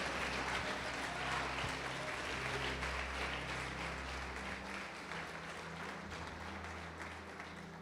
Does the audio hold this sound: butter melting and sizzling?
no